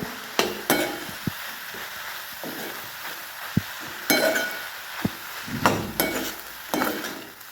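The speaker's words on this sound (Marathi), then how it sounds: "आता सर्व मिक्स करून घेऊया" Safflower leaf vegetable stirred together with coarsely crushed peanuts in a pan, scattered scraping and clinking spatula strokes over a soft sizzle, at an uneven pace.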